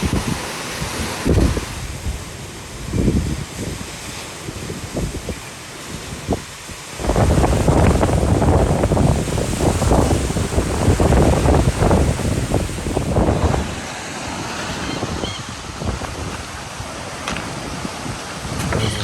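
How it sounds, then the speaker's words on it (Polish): Wind blows hard across a lake, whipping up choppy waves that roll and splash continuously with heavy, roaring gusts buffeting the microphone. "W ogóle obczajcie na te fale na jeziorze."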